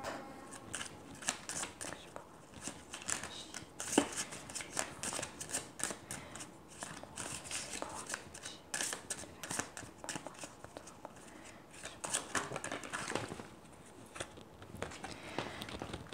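Oracle cards for a tarot reading being shuffled by hand, a steady soft papery riffling and slapping that continues for several seconds, close and fairly quiet with no talking.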